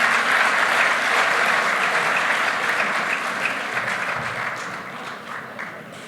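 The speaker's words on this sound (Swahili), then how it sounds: "Tuwapigie makofi yao wadosi jameni." Loud, sustained applause from a large audience at a presidential address in Kenya, dense clapping filling the whole stretch and slowly easing toward the end.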